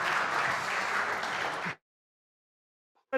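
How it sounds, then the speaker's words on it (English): Warm audience applause for the speakers at a consumer empowerment project launch event, a dense steady wash of clapping that cuts off abruptly partway through, followed by near silence. "A warm applause to our speakers"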